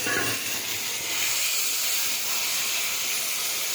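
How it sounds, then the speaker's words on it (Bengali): Tomato puree sizzles in a hot cooking pan with a loud, steady, close hiss that keeps going without a break throughout. "দিয়ে দিলাম টমেটো পিউরিটা।"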